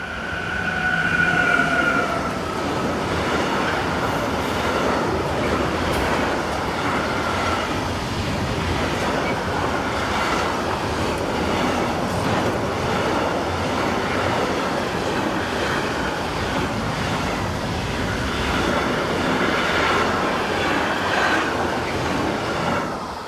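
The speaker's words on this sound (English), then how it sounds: "ES64F4998 heads north with a delayed 40564 from Verona in Italy to Padborg in Denmark" An ES64F4 electric locomotive hauls a long freight train north on the main line between Northeim and Hannover in Germany: a loud, sustained rumble and rush of passing wagons with rhythmic wheel clatter, fading slightly near the end.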